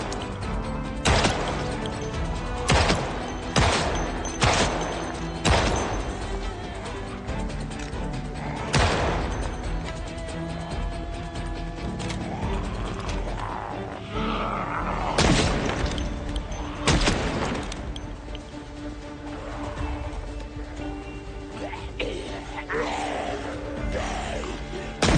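Gunfire in the zombie survival game Project Zomboid: a run of loud, sharp shots, several in quick bursts and others spaced apart, with echoing booms and clatter between them.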